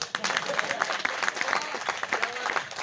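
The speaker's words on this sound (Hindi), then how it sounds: "ताली बजाओ।" An audience at a comedy poetry recital in a press club hall breaks into applause for a humorous poet, a lively, continuous patter of many hands, moderately loud and unbroken throughout.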